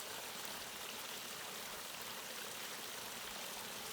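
Mountain stream on the GR20 in southern Corsica rushing over rocks into small pools, a steady, dense broadband wash of flowing water that holds constant throughout, close and fairly loud with no voices.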